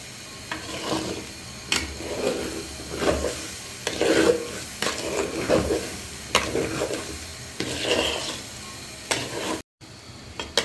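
Rice frying for pulao in a pot, a steady sizzle with repeated rhythmic scraping strokes of a spoon stirring the grains, close and fairly loud.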